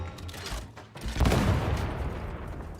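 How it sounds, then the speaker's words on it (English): A grenade blast in Warhammer 40,000: Darktide, a loud booming burst that swells after a brief dip and rolls on with crackling fire and rumble, no voices over it. "here's my grenade. Look at the radius on the explosion"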